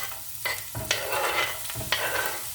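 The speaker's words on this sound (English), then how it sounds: "The bottom of the pan has been sprayed with some olive oil. Add the onions" Onions frying in a pan sprayed with olive oil give a steady close sizzle, with a few sharp scraping bursts as they are stirred and moved around.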